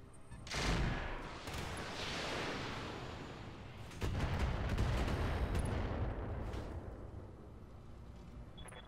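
Heavy mech weapons fire in the BattleTech mod Roguetech, a loud onset of booming impacts followed by sustained rumbling barrages and a second surge of blasts, fading toward the end.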